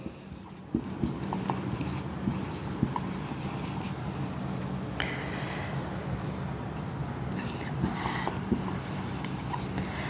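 Handwriting on paper while copying classroom rules, a soft continuous scratching and rubbing of the pen with occasional faint taps, close and quiet.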